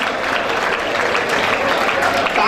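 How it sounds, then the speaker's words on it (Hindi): Audience applause fills a talent award ceremony in Hanumangarh, a continuous dense patter of many hands clapping at steady loudness from start to finish. "तालियों से स्वागत करें"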